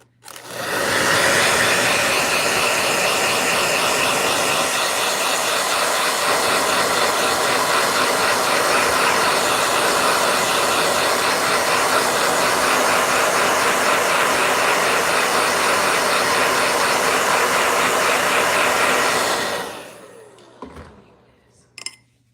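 A blow dryer runs continuously at full power for about twenty seconds, a loud, steady, broad whooshing roar close by. It then cuts off abruptly, leaving a few faint clicks and handling noises.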